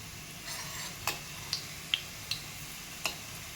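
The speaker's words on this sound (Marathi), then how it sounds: "आता हे जे मोदक केलेले आहे हे आपण इथे तळून घेऊया." Modak frying in oil over a medium gas flame, a soft even sizzle with five or six light, evenly spaced ticking clicks, close and quiet with no voices.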